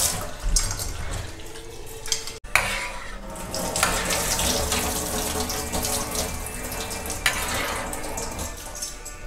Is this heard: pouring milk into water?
yes